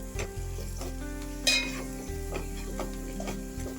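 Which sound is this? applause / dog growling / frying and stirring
frying and stirring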